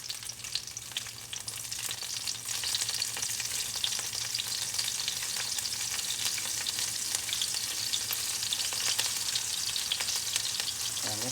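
Green onions and shrimp sizzle steadily in a hot pan, a dense, even frying hiss close up that rises slightly after a couple of seconds and carries on without talking.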